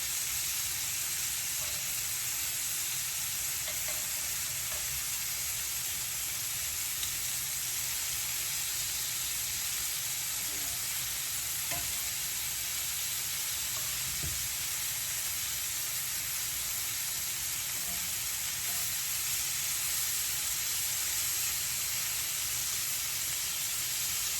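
Blackened mahi mahi pieces sizzling in a hot pan after being flipped, a steady loud frying hiss that holds continuously throughout, no talk.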